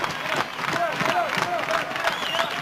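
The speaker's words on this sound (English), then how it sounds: "The crowd chanting, cheering for Pritchard and Huber." A 1983 St. Louis Wrestling arena crowd chants and cheers for Pritchard and Huber, a steady rolling roar of voices with scattered claps and whistles under a commentator's talk.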